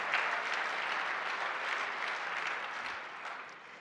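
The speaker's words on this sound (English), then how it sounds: "So applaud yourself for being some of the most intelligent people around." A conference audience applauds, a dense, steady wash of clapping that holds for several seconds and begins to thin out at the end.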